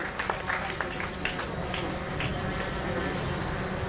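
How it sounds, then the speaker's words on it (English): A round of applause at a launch event for a national situation room and data dashboard, a steady crowd clapping with a few sharper claps standing out near the start, fairly loud and continuous. "Can we give her a resounding round of applause as we celebrate our own Mrs. Amina Mohammed."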